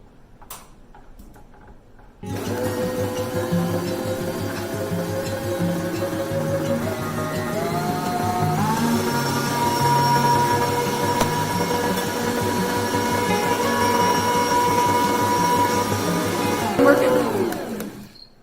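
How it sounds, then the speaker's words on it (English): An electric blender whirs steadily while mixing cake batter with cooking oil for a chocolate cake, starting abruptly after a brief pause and holding a loud motor drone, shifting in pitch midway before cutting off at the end. "And we're going to blend this together."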